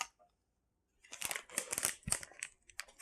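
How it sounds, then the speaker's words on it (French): Small pink scissors snip and crinkle open plastic packaging holding soft fishing lures: a quiet start, then a busy run of close, crisp rustling and cutting sounds. "je vais les ouvrir comme ça à l'instant avec mes petits ciseaux roses"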